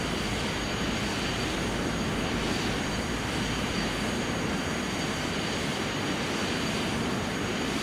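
A jet airliner taxis toward the runway in the Microsoft Flight Simulator X game, producing a steady, loud, even engine roar and whine that continues unbroken throughout.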